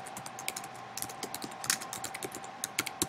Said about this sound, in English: simply press Enter or Return on your keyboard, and the title is changed